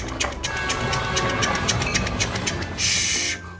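Toy train sound effect announcing the arrival of a make-believe idea train in a toddlers' colors lesson: a steady rolling clatter with rhythmic clicks, ending in a brief hiss near the close, loud and alone.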